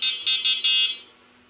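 Electric bicycle kit horn buzzer sounding in four short, shrill, evenly spaced beeps close by, the last slightly longer and fading into a quiet electrical hum.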